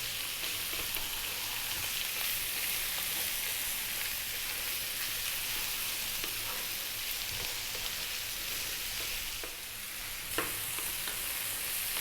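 Sausage and potatoes fry in a pan over high heat, giving a steady, loud sizzle with occasional stirring scrapes and no talk.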